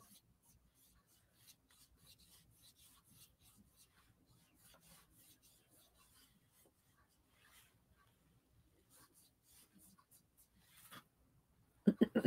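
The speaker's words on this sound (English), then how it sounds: "And then I'll add the details with pencil." A pencil scratches and rubs softly across paper, adding details to a painted rooster in faint, irregular strokes that continue for several seconds, with a louder knock near the end.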